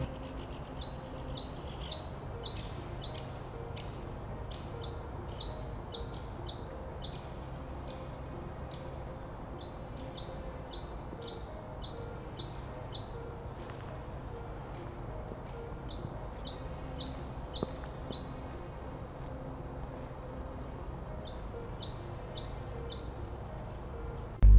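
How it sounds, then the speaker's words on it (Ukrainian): Small birds sing repeated bright trilling phrases in a spring park, recurring in clusters every few seconds over a faint, steady background hum. "100 відтінків зеленого, пташині трелі."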